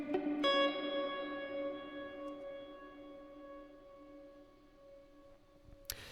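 Guitar through a Lost and Found pedal set with delay and reverb in parallel: a sustained chord rings out with a smeared, echoing reverb tail that slowly fades, ending in a brief click of a touch.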